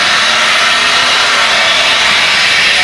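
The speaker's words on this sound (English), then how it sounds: "Slow power coming up. Starting to build the heat. Turbos engaged." A turbocharged pro stock pulling tractor at an NTPA Grand National pull, its engine roaring in a loud, steady, high-pitched howl that fills the whole moment.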